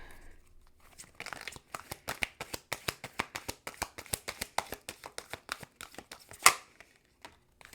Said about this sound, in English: I'm going to pull 3 Oracle cards, and we'll go from there.